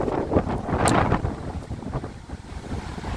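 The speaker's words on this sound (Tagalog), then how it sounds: "ang lakas pa rin naman ng hangin" Strong wind outdoors on a cloudy, stormy day while walking through Kilkenny, Ireland, loud gusty buffeting across the microphone with a constant rushing roar.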